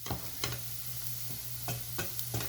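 Onion and garlic fry in a pan while a spoon stirs them, giving a steady close sizzle with about six sharp scraping strokes spread through the stretch.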